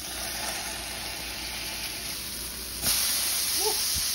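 A five-ounce round chuck burger patty rolled in kosher salt is pressed down in a hot skillet, giving a steady close sizzle and hiss that swells as the meat is pressed.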